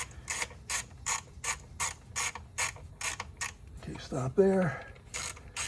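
A small 1/4-inch drive ratchet snugs an 8mm bolt on a Ford Fusion, giving about a dozen evenly spaced bursts of rapid clicking, close and crisp, before someone briefly speaks.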